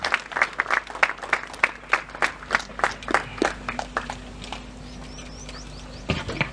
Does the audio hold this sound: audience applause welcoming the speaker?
yes